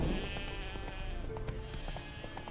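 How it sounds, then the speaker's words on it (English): Sheep bleating in The Witcher 3, a random herd heard as several close bleats over a steady ambient game background, with a busy bed of other game sounds underneath. "Random herd of sheep."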